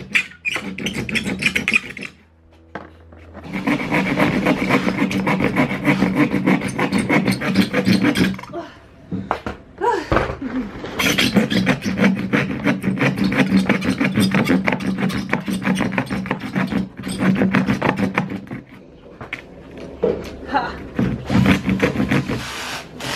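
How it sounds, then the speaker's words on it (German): A hand saw rasps back and forth through wood in steady rhythmic strokes, close by, with brief pauses between bursts of cutting. "Die Mama tut sägen."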